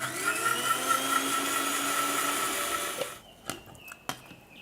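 A mixer grinder whirs steadily, grinding tamarind into paste for pani puri water, then cuts out after about three seconds, leaving a few clicks and knocks of the jar.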